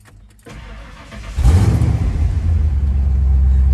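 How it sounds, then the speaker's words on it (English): A Ford EFI 302 V8 with a ghost cam cold-starts after sitting all day: a quiet lead-in, the starter cranks, then the engine catches with a loud surge and settles into a steady, lumpy rumbling idle. "This is a cold start, hasn't been started all day."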